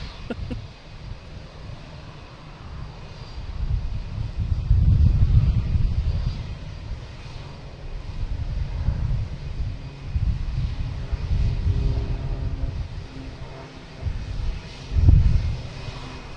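An airliner landing at Boston Logan Airport on a windy day gives a deep, rumbling engine roar that swells and fades twice, with wind buffeting the microphone throughout and no voices.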